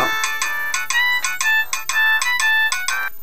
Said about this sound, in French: vous pouvez choisir le son de la sonnerie, par exemple modifier